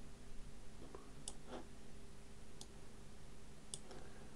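Mouse clicks while a font is changed in Unreal Engine's text settings, a few quiet, sparse ticks spread out over a faint steady room hum, with no voices.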